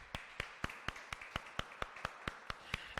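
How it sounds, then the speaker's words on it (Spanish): A church congregation claps in a steady, evenly spaced rhythm, about a dozen sharp claps over three seconds, fairly quiet and with no talking over them. "Damos un aplauso a Dios"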